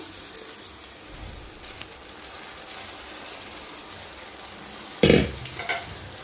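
Beetroot and fresh coconut curry frying and being stirred in a pan, a low steady sizzle with a few faint scrapes, then a brief louder clatter of the spoon near the end; no one talks.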